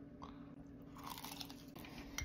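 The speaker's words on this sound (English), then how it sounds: "I just had a taste of the bits and pieces of fried rice. Crunchy." Close, quiet chewing of crunchy fried rice with bacon made from leftover spicy raw crab sauce, with soft repeated crunches and bites over a low background hum.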